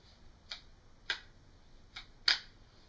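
A CRKT Triumph pocket knife banged around produces four sharp, isolated metallic clicks spaced irregularly, each brief and close, the last loudest, over a faint background hiss.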